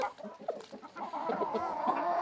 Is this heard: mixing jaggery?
no